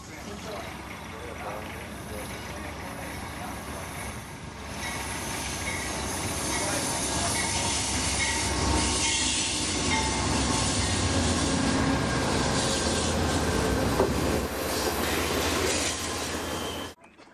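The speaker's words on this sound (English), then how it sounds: "soon the Coast Starlight pulls out of the station" The Coast Starlight passenger train pulls out of Klamath Falls station with a loud, steady rolling rumble and rail noise that builds after the first few seconds, with a hiss and faint wheel squeal. Narration runs over it.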